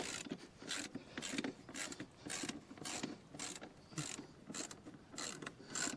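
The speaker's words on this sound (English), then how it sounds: "loosen the back axle, which is a 24mm socket and a 27mm on the other side. And we just loosen this off." A ratchet socket wrench loosens the rear axle nut on a Benelli TRK 502X motorcycle, its pawl clicking in about ten steady, close bursts of rapid ratcheting separated by short pauses.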